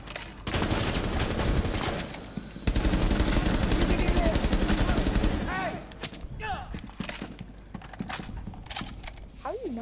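In Rainbow Six Siege, loud rapid automatic gunfire rattles almost continuously for the first five seconds, then gives way to sparse shots and clicks while players talk over it.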